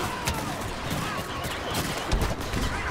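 Stinger pistols in the Star Wars Battlefront video game fire in rapid repeated bursts within a dense, continuous battle soundscape, with other gunfire and effects layered throughout.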